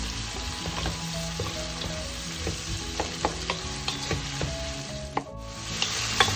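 Vegetables sauté in a hot pan for ginisang munggo, a Filipino mung bean soup. A loud, continuous sizzle fills the scene, with a spatula tapping and scraping against the pan now and then, and no talk.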